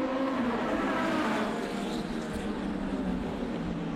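Formula Atlantic race cars roar off at the green flag at a street circuit, a dense, sustained engine wail with revs climbing at the start, while a commentator speaks in French over it.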